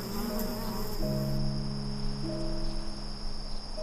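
Bees buzzing in a garden at dusk, a dense insect hum blended with steady cricket chirring and low sustained tones throughout.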